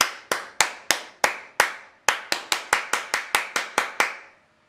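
Single sharp hand claps aimed at a microphone double-clap switch ring out one after another in a loose, uneven rhythm, each with a short decaying tail, close and loud against an otherwise quiet room.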